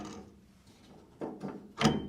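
A Chevrolet C10 pickup's shaved door has its small latch pulled and then the door tugged, giving two soft mechanical clunks and a sharper metallic thunk near the end, all close and fairly quiet.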